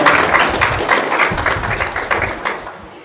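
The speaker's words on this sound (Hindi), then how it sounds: "अरे ताली बजाने के लिए नहीं" An audience at a lecture hall discourse applauds, a dense, loud wash of clapping that holds steady then slowly fades over a few seconds.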